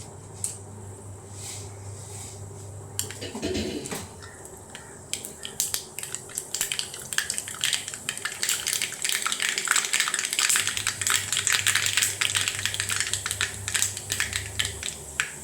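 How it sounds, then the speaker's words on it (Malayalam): Mustard seeds popping in hot oil in a pan, starting as a quiet hiss, then a bump of handling before a dense, crackling spatter of rapid pops builds and keeps going, close and bright. "കടുക് പൊട്ടി തുടങ്ങി"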